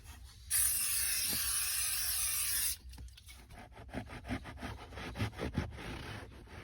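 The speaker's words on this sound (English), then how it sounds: "While you have your Scotch-Guard out, I also like to spray in this area right here underneath the seat" Scotchgard sprays under a car seat in a Honda CR-V, a loud sharp hiss lasting about two seconds, followed by faint rubbing and shuffling sounds.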